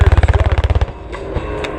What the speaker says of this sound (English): When it fires its gun, it has a very distinctive sound